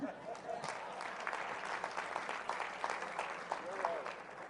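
Audience applause at a leadership and morality teaching, a steady wash of clapping that holds at an even, moderately loud level throughout, with no clear speech above it.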